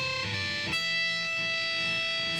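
Electric guitar with the picking hand resting too far onto the strings, giving muted, choked notes through a distorted amp tone; a steady sustained buzz with a brief attack partway through, no voice.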